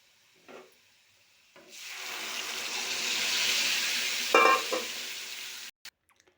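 Dal is stirred into a pan of fried onion, garlic, dried red chillies, cumin and curry leaves, giving a steady, close sizzle and hiss with a few scraping stirs before it cuts off.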